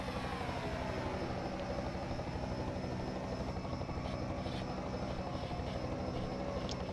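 A helicopter hovers over the Las Vegas track in a Hot Wheels Cup Series racing video game, its rotor and engine giving a steady, loud, continuous drone that holds for the whole stretch.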